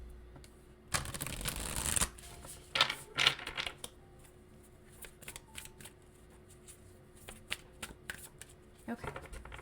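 A deck of tarot cards is shuffled close by, with a loud riffling burst followed by softer taps and card handling over quiet room noise.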